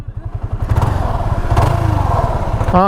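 A motorcycle engine runs close by with an uneven, sputtering rhythm and clattering knocks, sounding rough and irregular after water got in during a river crossing.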